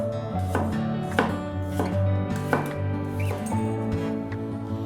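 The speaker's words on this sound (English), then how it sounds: "Now take about 5 cloves of garlic. I slice mine thin." Knife slicing about five garlic cloves thin on a board, a series of crisp, close chopping strokes at a steady rhythm with a sustained musical hum running underneath.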